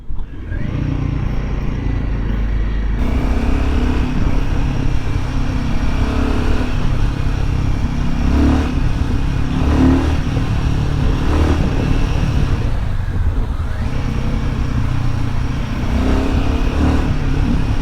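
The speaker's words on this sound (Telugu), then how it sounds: "ఇంజిన్ పంచ్ అయితే అదిరిపోయింది" A Royal Enfield Himalayan 450 motorcycle revving high on a ride, its engine a loud, continuous roar mixed with wind rush that swells slightly in places and holds steady throughout.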